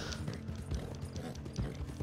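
Horse hooves in a video game clip-clopping at a steady trotting rhythm, close and continuous with faint background noise.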